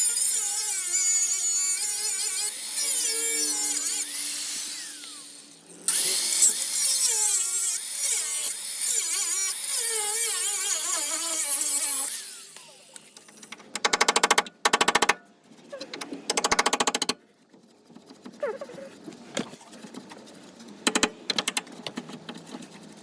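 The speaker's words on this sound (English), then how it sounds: "I'm going to go ahead and chip a bunch of that out of there" Rust is chipped off the frame of a Jeep YJ in rapid, dense metallic tapping bursts, close and loud, then breaking into scattered sharp clusters separated by pauses.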